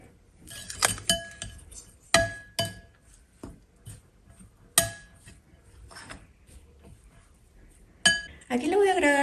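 Eggs and a couple of spoonfuls of wheat flour mixed in a bowl at home, with a utensil clinking and tapping repeatedly against the bowl in irregular bursts, close and fairly loud.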